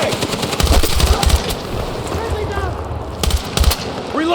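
Gunfire from a Battlefield 6 military shooter game crackles in rapid bursts over wind and battle noise, loud and close, with voices calling out amid the shooting.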